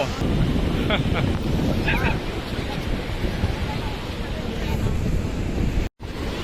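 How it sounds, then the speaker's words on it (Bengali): Bay of Bengal surf rumbles continuously on Marina Beach, Chennai, under heavy wind buffeting the microphone, with faint voices in the background. "এই সমুদ্র, এটাকে বলা হয় বে অফ বেঙ্গল।"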